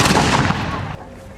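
Gunshots fired during a reenactment in Virginia, a loud close blast that rolls and decays into a fading echo over about a second.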